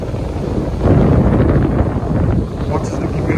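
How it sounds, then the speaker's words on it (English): Strong wind buffets the microphone on a beach in Durban, South Africa, a steady low roaring rush that swells loudly after the first second and stays constant throughout, with no voices. "Didn't expect the wind to pick up that quick."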